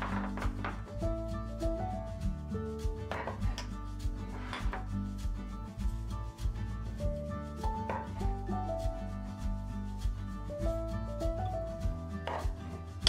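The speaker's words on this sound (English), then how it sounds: "Cleaning the hood." A kitchen range hood is scrubbed by hand with steady back-and-forth rubbing strokes, repeated and close, over a faint musical background with no talk.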